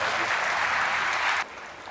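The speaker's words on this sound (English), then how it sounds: "I think this deserves a big round of applause" Close, dense applause from an audience at an interview event fills the first second and a half, then cuts off sharply to a quieter room tone.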